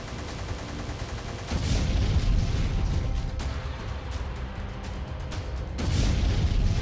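Continuous AK-47 gunfire rattles in a war zone near a hostel during the Russia-Ukraine war, a dense, rough roar of sustained shooting that swells and eases over several seconds, heard from some distance.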